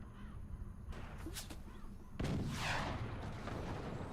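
Cannons boom in the physics-based fort-building strategy game Forts, with a few heavy blasts and a larger impact that leaves a rolling rumble, all at moderate volume with no voices.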